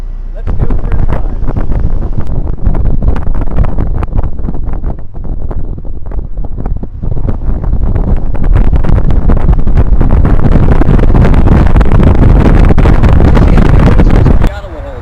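A 2010 Mazda Miata MX-5 drives on the road, with steady engine and road noise heavily buffeted by rushing wind for the whole stretch, loud and close, before it cuts off abruptly near the end.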